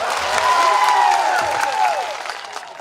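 Crowd at a large outdoor political public meeting applauding the police, dense steady clapping with some cheering voices throughout, fading slightly toward the end.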